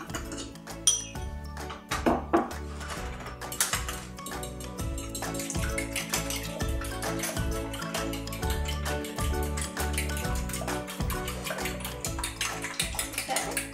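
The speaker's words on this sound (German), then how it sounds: "jetzt können wir die Milch mit dem Ei verquirlen" Milk and egg whisked together in a bowl for French toast rolls, a steady run of rapid clinking strokes against the bowl that continues close and busy throughout, with a few sharper knocks near the start.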